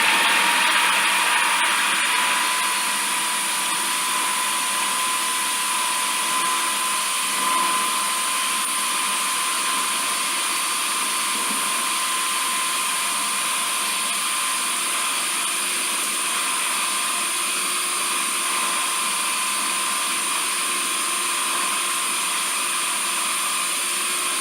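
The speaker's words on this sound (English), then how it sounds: "And I'm using my Ninja blender." A Ninja blender runs continuously at high speed, a steady loud whirring drone with a sharp motor whine that holds evenly throughout, with no talking over it.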